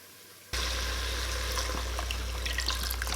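Beef broth pours into a soup pot in a steady, loud stream that starts suddenly and runs without a break.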